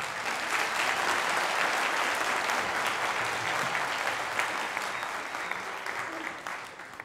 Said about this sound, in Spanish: Voy a pedirle aplauso para los chicos.